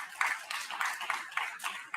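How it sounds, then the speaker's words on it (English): An audience applauds at the Smart India Hackathon 2025 grand finale in Mysuru, with steady, fairly faint clapping from many hands and a few louder claps standing out over about two seconds. "I hope you deserve a round of applause to come to this place."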